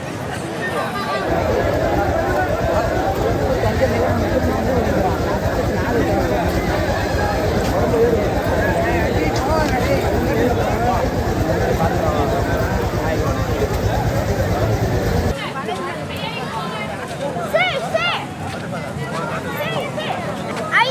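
A dense crowd walking the Girivalam pilgrimage path, a steady babble of many voices and shuffling movement for most of the stretch, then thinning abruptly to scattered nearer voices and sounds near the end.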